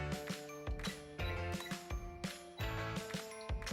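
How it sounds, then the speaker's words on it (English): A mechanical kitchen timer being wound by hand in a home kitchen, giving a close, quiet run of ratcheting clicks and light metallic ticks in an uneven rhythm, with no talk. "set my timer"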